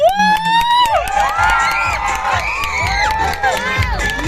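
A lively crowd at a gay beauty pageant cheers and shouts, with high excited whoops and screams rising and falling continuously, close and loud throughout.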